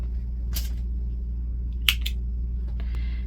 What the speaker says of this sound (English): And then we're going to cut our yarn